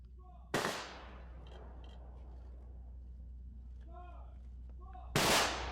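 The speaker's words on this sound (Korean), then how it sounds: "조총은 19발을 3회에 걸쳐 발사하겠습니다" Two sharp, loud rifle volleys from a military honor guard salute at a state funeral burial in Korea, several seconds apart, with a low steady hum beneath and faint voices between the shots.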